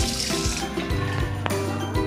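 Water runs steadily from a hotel bathroom tap with strong water pressure, a continuous rushing hiss with some clatter and hum underneath, close by.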